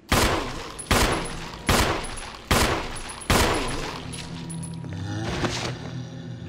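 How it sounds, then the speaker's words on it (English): Five heavy gunshots fired at an even pace in Resident Evil 1 HD, each sharp crack followed by a short decaying tail, ending with mechanical clatter of the weapon. "he's shooting at something"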